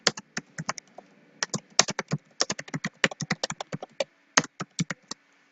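Fingers typing on a computer keyboard, including repeated backspace presses: crisp close key clicks in quick irregular bursts with brief pauses, loud and alone.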